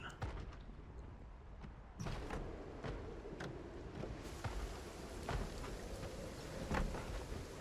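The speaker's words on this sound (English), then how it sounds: "It's raining, it's windy, they're not going to hear much." Steady video game rain hiss with a rushing, windy background in Project Zomboid, broken by occasional soft thuds and clicks, fairly quiet throughout.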